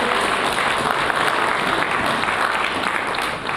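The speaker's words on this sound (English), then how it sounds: "let's give a round of applause to the beautiful" A gala dinner crowd at a charity event for fallen heroes claps steadily, a loud, dense, continuous roll of applause that barely wavers before easing slightly at the very end.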